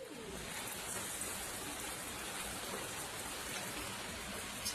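Heavy rain pours steadily during a flash-flooding thunderstorm, a dense even hiss with no breaks, moderately faint and alone without voices.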